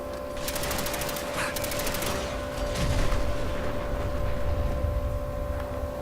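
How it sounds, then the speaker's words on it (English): Rapid bursts of gunfire and explosive booms crackle over a constant electronic hum, steady and dense throughout, in a Fallout 4 game battle. "Okay, I did not expect explosions."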